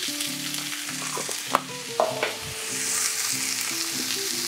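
Chicken and leek fry in olive oil in a pot on the hob, a strong, steady sizzle with a couple of sharp clanks from a utensil, close and continuous without talking.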